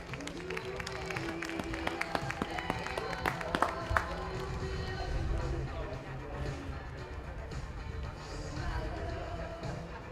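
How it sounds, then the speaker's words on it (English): A polo club crowd claps for both teams at a trophy presentation, a patter of applause with sharp hand claps early on, fading into murmuring crowd noise and talk. "Let's give both teams a round of applause as they're going up there."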